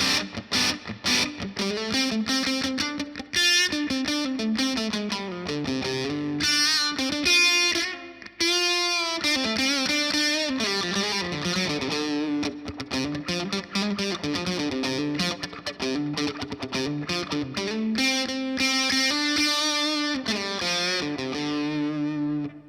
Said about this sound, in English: Let's get the distortion up to about 10 o'clock and see what that sounds like.